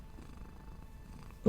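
The blacksmith's cat in the video game Medievalien purrs in a soft, low, rhythmic rumble, quiet and close, before a brief louder sound at the very end.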